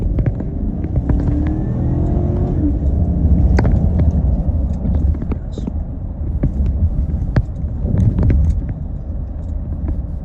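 A Chevy Tahoe with its muffler deleted accelerates from a slow 15 mph roll, giving a deep rumbling exhaust drone close by with some clicks and road noise.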